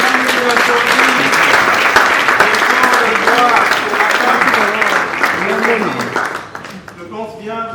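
Loud applause at the Nzonzing Awards third edition ceremony greets Madame Mujinga Jovi, a thick wall of clapping with voices and tonal sound running over it, thinning out in the final seconds.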